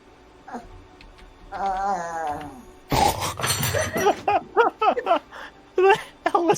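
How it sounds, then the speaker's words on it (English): A pet dog named Wookie, worked up and excited, lets out a drawn-out rising howl and moan followed by a string of short strained groaning yelps, close and loud, with no talk over it. "my dog only sounds like that when he's like super riled up"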